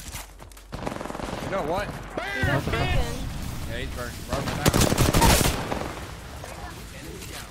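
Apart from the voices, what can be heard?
gunfire in the video game Apex Legends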